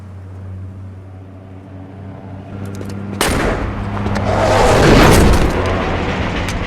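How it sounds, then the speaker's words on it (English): Explosion from a cutscene in the 2006 video game Saints Row: a low steady hum, then an abrupt, loud blast breaks in and swells into a sustained roaring rumble that stays strong to the end. "That was a hell of an explosion."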